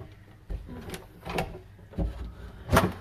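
A locked door in an old prison is rattled and pushed several times, giving irregular dull knocks and clunks of wood and metal, close and moderately loud, with no clear speech.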